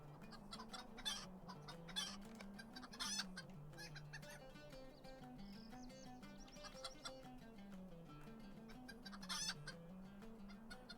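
Chicken clucking from a video game, with repeated rhythmic clucks and cackles over a low droning tone and occasional sharper squawk bursts, moderately loud and without speech.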